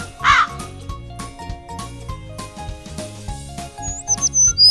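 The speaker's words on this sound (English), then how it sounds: "crow," A crow gives a short, harsh caw over busy background music, one brief call near the start, with a few faint chirps later.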